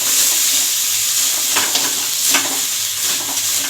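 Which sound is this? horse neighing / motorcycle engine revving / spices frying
spices frying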